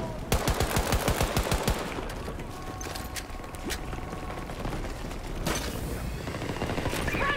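Rapid bursts of automatic gunfire in Battlefield 2042 crack at the start, then scattered single shots, clicks and mechanical weapon handling follow, with another burst of fire near the end.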